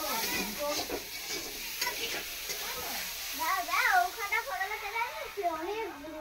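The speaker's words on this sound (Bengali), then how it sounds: "সকাল সকাল আলু ভাজা।" Potatoes fry and are stirred in a pan with a continuous close sizzle and scraping, while several voices, including a child's, talk over it.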